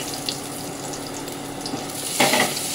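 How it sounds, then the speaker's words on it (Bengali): Steady crackling sizzle of garlic, nigella seeds and green chili frying in hot oil, continuous and close, with a brief louder burst of spitting near the end. "রসুনটা কালো জিরে আর কাঁচা লঙ্কাটা ভাজা ভাজা হয়ে যাওয়ার পরে"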